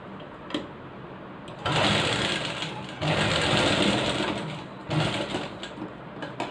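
A sewing machine stitches blouse fabric in short bursts, its fast whirring motor starting and stopping three times with brief pauses and faint clicks between runs.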